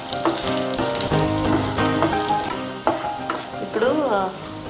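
Garlic pieces frying in a pan for capsicum chilli paneer, sizzle and stirring clatter close by, with music-like tones running underneath.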